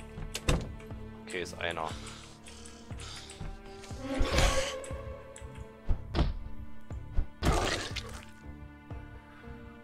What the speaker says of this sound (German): So, ich muss die Barrikade erst abmachen.